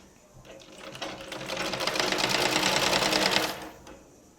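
Sewing machine stitching two churidar bottom pieces together, a steady rapid needle clatter that builds up, runs continuously for about three seconds and then stops, fairly close and alone.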